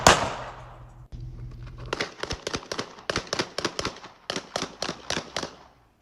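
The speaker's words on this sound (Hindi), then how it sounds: "इलाके में ये जो गोलियों की तड़तड़ाहट है, जो लगातार फायर किया गया" Rapid gunfire rings out in bursts of sharp reports in news footage of a gang shooting, opening with one loud crack and then clustered shots over several seconds.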